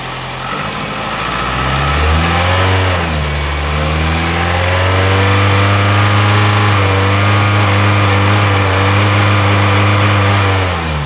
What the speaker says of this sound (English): We're gonna try to accelerate it.